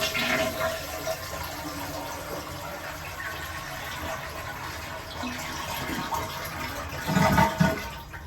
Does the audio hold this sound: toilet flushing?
yes